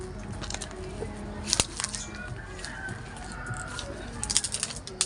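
Soft pigeon coos rise and fall among scattered shuffling and flapping noises as the birds are fed, with a faint voice in the background.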